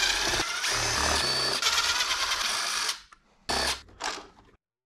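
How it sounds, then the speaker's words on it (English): A screwdriver works the screws on an iRobot Roomba cover, giving close, busy mechanical whirring and clicking for about three seconds, then a pause and two short bursts. "I have to unscrew only two screws, this one and that one."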